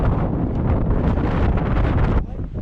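Strong wind buffets the microphone outdoors in constant, loud rumbling gusts, easing off briefly near the end.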